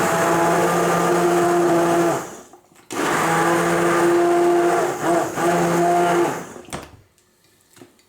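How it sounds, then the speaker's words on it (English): A loud blender whirs in two long bursts with a brief pause between them, then winds down and stops, blending carrot and coriander soup. "try and keep your blender low"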